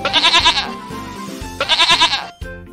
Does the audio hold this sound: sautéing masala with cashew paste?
no